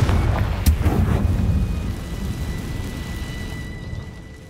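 A Confringo fire spell bursts in Hogwarts Legacy with a loud, booming blast and sharp crack, then a rumbling tail that fades over several seconds.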